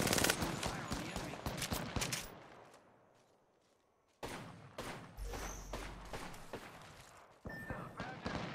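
Gunfire in the video game Apex Legends comes in rapid automatic bursts, loud and close. The firing pauses briefly midway, then resumes in further bursts alongside thuds and game effects.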